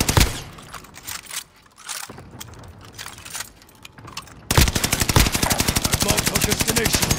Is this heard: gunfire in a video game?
yes